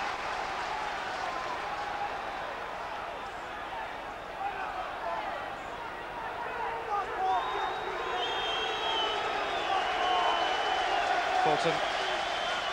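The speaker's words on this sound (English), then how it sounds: "Plenty of applause from the Hearts fans" Hearts fans applaud at Tynecastle during a football match against Rangers, a broad crowd clapping that swells from the distance and fills the stadium while a commentator talks over it.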